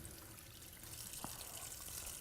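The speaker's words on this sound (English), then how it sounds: "So I'm going to turn the water on for you there." Water runs steadily from a tap into a sink for hand washing, a faint, even hiss that lasts throughout with a single brief knock partway through.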